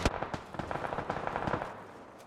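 Gunfire in a PUBG pro scrim match, a rapid flurry of sharp, distant-sounding shots and cracks in irregular bursts, fairly quiet, with no talk.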